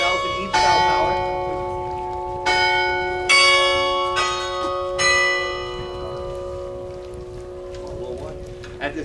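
Large 18-kilogram bells toll several times in a bell tower at noon, with long ringing overtones, each strike blooming and fading, against a windy outdoor background with some voices.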